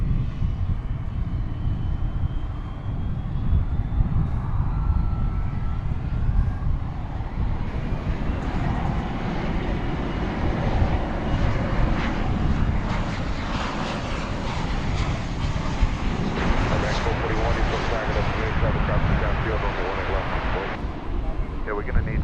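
A jet airliner takes off from a runway at Dallas Fort Worth airport, a continuous broad engine roar that swells and holds loud throughout, with a voice talking over it.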